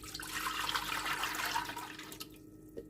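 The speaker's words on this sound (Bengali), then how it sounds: "পানি দিলাম" Water poured from a mug into a cooker pot to cook soaked basmati rice for sweet rice, a close steady splashing gush that tapers off, then a brief drip and clink.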